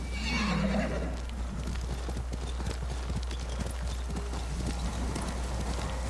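A horse in the samurai video game Ghost of Tsushima gives a loud whinny at the start, followed by steady clip-clopping hooves at a walking rhythm, close and alone.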